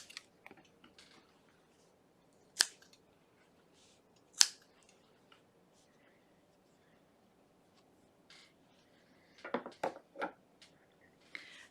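Scissors snip through 6-inch strips for a crocheted dust mitt, a few isolated crisp cuts spaced seconds apart, then a quicker cluster of snips near the end, close and otherwise quiet.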